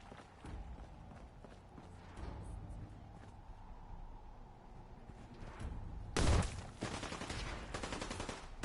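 Rapid automatic gunfire in the video game Fallout rattles in the background, followed by a sudden loud burst near the end, with a low hum throughout.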